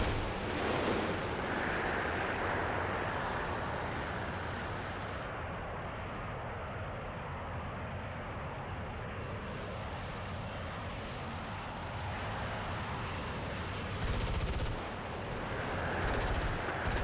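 Machine gun and cannon fire in War Thunder, loud bursts of rapid shots packed into a dense barrage with a short lull in the middle before firing picks up again, with no talking.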